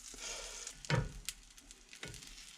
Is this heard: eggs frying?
yes